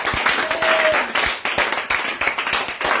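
Congregation at a church prayer service clapping and applauding in a dense, steady wash of many hands, loud and continuous throughout.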